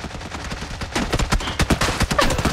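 Rapid automatic gunfire in PUBG during a rush, dense overlapping bursts of shots that grow louder and more intense after the first second, firing nearly continuously with a few echoing reports.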